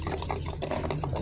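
Beaten eggs with a pinch of salt and pepper are stirred briskly in a bowl, a steady close scraping and light clinking of utensil against the dish with no talk.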